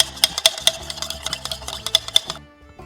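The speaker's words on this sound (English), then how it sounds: "Give this a little stir to mix the marmalade in." A spoon stirs a cocktail in a glass to mix in orange ginger marmalade, giving quick, bright clinks against the glass in an uneven rhythm for a couple of seconds, close and clear with no talk.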